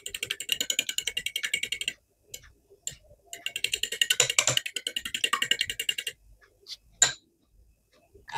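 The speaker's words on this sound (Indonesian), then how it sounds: "Lanjut kocok lepas hingga kuning dan putih telurnya bercampur merata." Two eggs whisked in a bowl with a fork or whisk give fast, even ticking clatter in steady bursts. Short pauses split the strokes and a few louder knocks stand out. No one talks.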